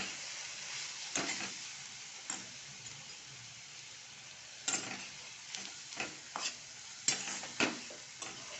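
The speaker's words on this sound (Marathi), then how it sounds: "थोडं आपण मिक्स करतो" A vegetable is stirred in a pan with peanut powder and moong dal over a gentle sizzle, with scattered spoon scrapes and clicks against the pan.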